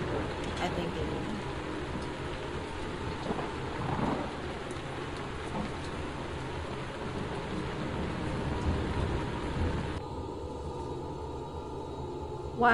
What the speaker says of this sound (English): Why is it raining in your crib?